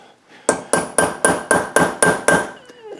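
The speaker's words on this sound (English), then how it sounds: "He's using a broken punch" Eight sharp, evenly spaced hammer blows drive a broken round punch with a chisel-like edge against a stud in a workshop, each a bright metallic ring that decays before the next strike, loud and close.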